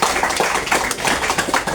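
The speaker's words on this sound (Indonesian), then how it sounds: "Tepuk tangan yang meriah dong." Lively applause from an audience at an Indonesian literary motivation event, dense and continuous clapping filling the short stretch at steady loudness with no gaps.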